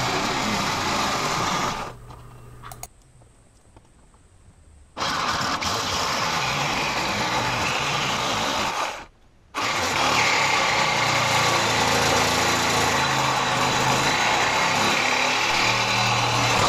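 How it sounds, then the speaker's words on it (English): Jigsaw cutting a 50 mm wide strip for a battery box bracket, a loud buzzing whine running in long bursts with two short pauses where the blade stops and restarts. "I'm also using the jigsaw to cut a 50 mm, or approximately 2 inch wide strip"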